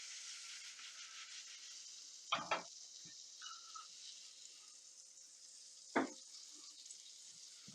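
Quesadilla cooks in butter in a pan with a soft, steady sizzle underneath, punctuated by a few sharp clatters and brief scraping bursts, fairly quiet overall.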